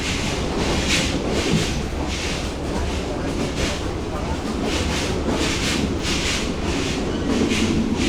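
Onboard the Burimari Express, the train rattles and shakes with a loud, continuous rumble and clatter that stays steady throughout, like a rough ride heard from inside the carriage.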